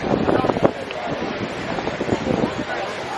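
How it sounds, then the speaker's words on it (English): Gusty wind buffets the microphone in uneven bursts near the windmills of Mykonos, Greece, while people talk close by. "So windy."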